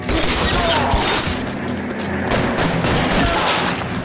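Gunfire in LA Noire: sustained, loud volleys of rapid shots pile up into a steady barrage that keeps going without a break, with no voices heard over it.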